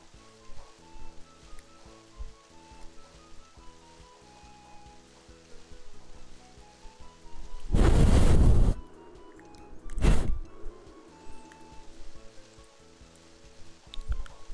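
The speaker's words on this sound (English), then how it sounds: "if only you could blow away their clouds raining on you right now" Rain falling in the video game Gardening Mama: two short bursts of hissing downpour rise loudly over steady game music, a longer one followed moments later by a brief second gust.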